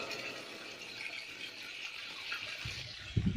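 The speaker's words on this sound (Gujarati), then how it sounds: "જોવા બાખલકાનો ડાર વા મિત્રો જો ઉભરાઈને જાય પાણી આખું" Rainwater overflowing the check dam at Bakhlka village after heavy rain makes a steady, continuous rushing wash throughout, with a few low thumps of wind or handling near the end and no talk.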